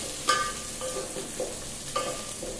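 Potatoes and onion frying in a pan over a medium flame, a soft steady sizzle broken by a few sharp stirring scrapes.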